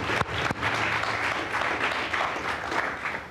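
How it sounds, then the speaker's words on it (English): An audience at a Boston city scholarship ceremony gives a round of applause for recipients, moderate steady clapping in an indoor hall with a couple of sharp knocks early on. "let's give a big round of applause to all recipients."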